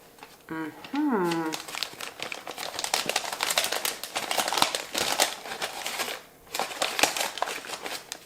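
Gift wrapping paper crinkling and tearing open in bursts of rustle while someone opens a Christmas swap present, with a voice speaking briefly near the start.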